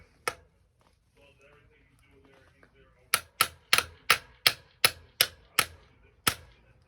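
A pin being hammered out of a 2022 Yamaha TTR125 motorcycle clutch lever: one sharp metallic strike, a pause with faint handling noise, then a quick run of eight loud, evenly spaced close taps.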